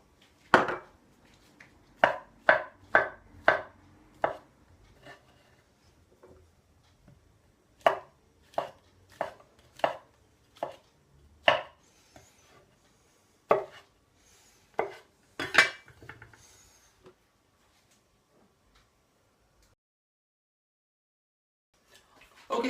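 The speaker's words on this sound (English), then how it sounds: "we're just going to slice them up nice and fine." A knife slices mushrooms finely against a cutting board in quick bursts of taps, pausing between runs, close and crisp with no talking.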